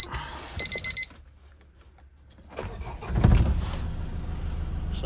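A 2014 Land Rover Defender 130 2.2 TDCi MEWP with 48,000 miles gives four quick electronic beeps, then after a short quiet pause the diesel cranks, catches at once and settles into a steady, fairly loud idle.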